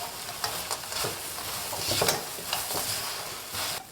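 Fried little noodles and black sesame are quickly tossed in a pan with a melted coating, giving repeated scraping and stirring strokes over a soft sizzle, up close and with no talking.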